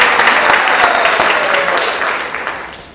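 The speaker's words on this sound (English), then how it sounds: "Let's give her a round of applause." Loud, dense applause from a crowded audience at a candidates night, continuous clapping that holds steady for about three seconds and tapers slightly at the end.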